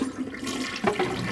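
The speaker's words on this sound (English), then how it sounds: "Now flushing your poop." A toilet flushing, heard as a steady rushing, gurgling water sound that stays loud and close throughout, with a swirl of draining water toward the end.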